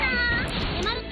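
A cat character in the fighting video game Blade Strangers lets out a drawn-out meow, then a second shorter one, loud and close amid game audio.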